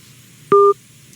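A single loud, clean telephone keypad tone, one short steady beep standing alone against a quiet background, from dialing in to a call-in radio broadcast.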